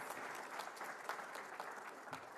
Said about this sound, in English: A loud of applause for our teachers, please.